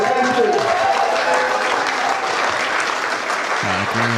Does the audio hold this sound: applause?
yes